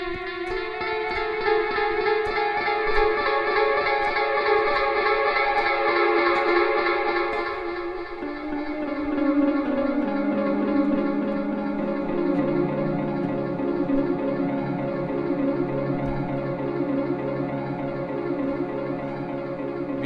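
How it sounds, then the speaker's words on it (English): Electric guitar runs through a Boss GT-100 warp delay swept by an expression pedal, sustained chords smearing into echoing, pitch-bending repeats that glide downward before settling into a shimmering wash. "on this patch I'm going to use the XL pedal to control a warp delay"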